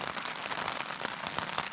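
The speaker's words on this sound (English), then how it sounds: "I'm gonna have my breakfast and enjoy raindrops" Raindrops patter steadily during a wild camp, a faint, even hiss of many small ticks with no voices.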